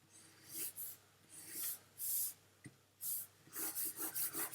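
An eraser rubs across drawing paper in short repeated bursts with brief pauses between strokes, fairly close and quiet, with no talking.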